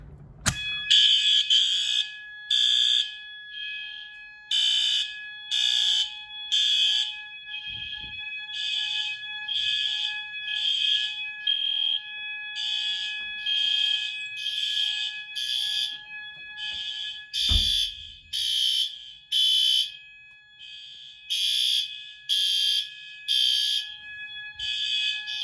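A retrofit fire alarm system sounds after a pull station is triggered, with Advance and L series devices on high volume. Loud, steady pulsed tones repeat in even bursts for the whole stretch, with a faint thump partway through and no talking.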